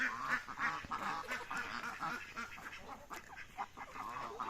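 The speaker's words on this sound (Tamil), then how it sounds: "வாத்து சத்தம் தான்" Several ducks quack repeatedly in a noisy, overlapping chorus, fairly close, with no talking.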